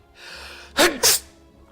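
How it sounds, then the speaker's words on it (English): A person sneezes twice in quick succession, two sharp loud bursts during a Slay the Spire gaming session, with faint background noise before and after. "Sneeze time."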